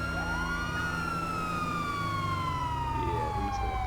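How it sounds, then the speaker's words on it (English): A police car siren in the LSPDFR video game wails loud and close, one continuous rising and falling tone with the hum of the vehicle beneath it. "I'm going to turn my sirens off because they get a little annoying"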